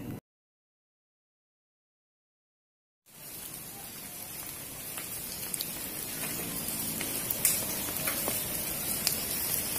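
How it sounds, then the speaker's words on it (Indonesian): Steady rain pattering and hissing on surfaces outdoors during installation of a water tank made from a drum, starting after a few seconds of silence and continuing evenly with scattered louder drips. "Hujan gemericik kasihnya."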